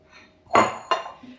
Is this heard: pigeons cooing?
no